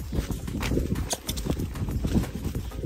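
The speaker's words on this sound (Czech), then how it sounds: "Takže teďko jsem tady na kousek cválala a Zorinek většinou křižoval ve cvalu, jo?" Horse hooves clip-clop steadily while ridden outdoors along an uneven, deep trail after a short canter, the footfalls close and continuous with rustling in the background.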